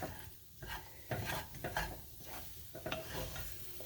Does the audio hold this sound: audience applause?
no